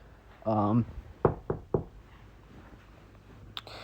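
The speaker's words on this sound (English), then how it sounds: "he heard a knock on his door" A brief voiced sound, then three firm, evenly spaced knocks on a door in a quiet room, followed by silence.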